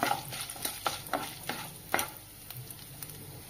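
Five or six garlic cloves fry in oil in a pan for an oil-style brinjal curry, with a soft continuous sizzle broken by repeated clicks of a spoon stirring, close and fairly quiet.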